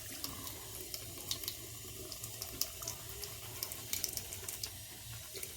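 Tap water runs steadily into a sink while a synthetic-hair makeup brush is rinsed, with soft splashes and small irregular spatters. The sound is close and continuous, with no talking.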